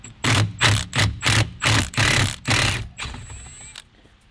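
Power tool backing Loctite-coated steering wheel bolts out of a Nissan 350Z, sounding as a series of about seven loud, evenly spaced rattling bursts close up, then a quieter whir as it spins free.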